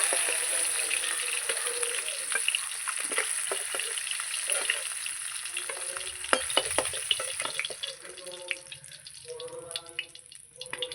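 Katla fish pieces frying in hot oil give a steady, dense sizzle with occasional pops and crackles, easing slightly toward the end as quiet talk comes in.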